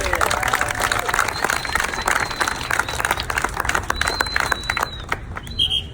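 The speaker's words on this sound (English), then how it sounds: "one more time, clap for the kid" Audience at a juggling show applauding a child volunteer, a steady spread of clapping with some crowd noise and babble underneath.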